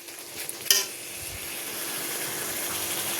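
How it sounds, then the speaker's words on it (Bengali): Spice masala for loitta fish curry sautés in a pan with a steady low sizzle, opened by a sharp clink of a utensil against metal and light stirring scrapes. "পুরো ভালো করে মশলাটাকে কষাতে হবে"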